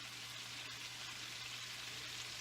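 Meatballs frying in a pan as they are turned with two spoons, a faint, steady sizzle with a low hum beneath it, without speech.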